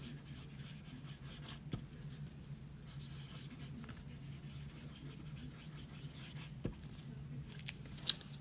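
Pen writing on paper while manifesting intentions, a soft steady scratching and rubbing that runs throughout at low level, with a few small taps and clicks near the end.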